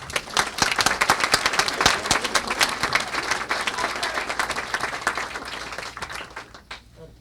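An audience claps warmly to welcome author Thomas Ricks at a book talk on Churchill and Orwell, a dense, sustained round of applause that tapers off near the end.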